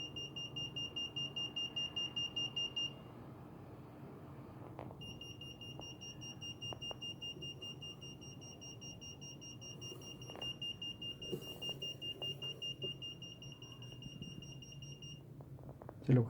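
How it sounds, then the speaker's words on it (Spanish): An Arduino ultrasonic sensor alarm beeps in rapid repeated bursts, stops briefly, then resumes as a steady tone for several seconds over faint background noise. "la alarma visual y sonora por 10 segundos"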